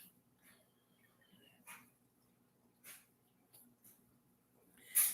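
An old deaf and blind dog makes faint, short snuffling bursts at irregular intervals in a quiet room, with a slightly louder one at the very end.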